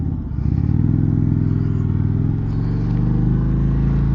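A Springfield Darkhorse motorcycle's engine runs steadily with a low, throbbing rumble as the bike rolls over a bump in the road, with no talk over it.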